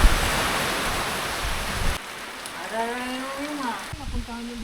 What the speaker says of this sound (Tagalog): Humina na yung ulan